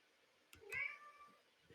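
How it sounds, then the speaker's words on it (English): A single soft cat meow, brief and rising, heard close in an otherwise quiet room. "We got a meow."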